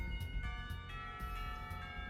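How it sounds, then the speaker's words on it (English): School lunch bells in the visual novel Katawa Shoujo ring out as a sustained, steady chime with sharp repeated strikes over a lingering tonal ring, played at moderate loudness. "We barely finish before the lunch bells ring, calling us back to our classrooms."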